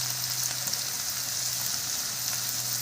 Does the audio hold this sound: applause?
no